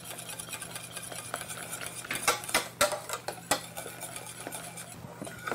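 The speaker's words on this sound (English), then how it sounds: "I'm going to incorporate some of our St. Isidore's cheese in here and just stir that in nicely to melt it down" A spoon stirs cheese into a hot pot so it melts, giving a series of close scraping and clinking strokes against the metal that grow busier midway, with a faint steady hum behind.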